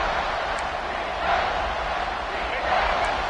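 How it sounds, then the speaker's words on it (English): Large stadium crowd at a college football game roars steadily from a distance near the goal line, a broad wash of cheering that swells slightly, with a commentator talking over it. "this big crowd doing everything possible to inspire this defense down here near the goal line"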